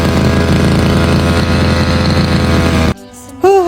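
A grass-cutting machine engine runs in a garden with a loud, steady buzzing drone that cuts off abruptly near the end, followed by a short rising and falling tone.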